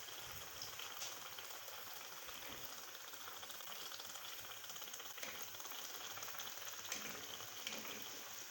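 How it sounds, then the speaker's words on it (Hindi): Gol gappe puris pressed down one by one into hot oil, giving a steady, soft, dense sizzle and crackle that stays even throughout, with no voices. "अब हम ये एक एक डाल के इस तरह दबा दबा के इसको फ्राई करेंगे"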